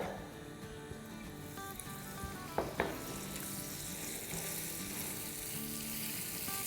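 Butter sizzles in melted sugar in a pan for caramel butterscotch, a soft steady hiss with a couple of sharp utensil clinks midway as the mixture is stirred.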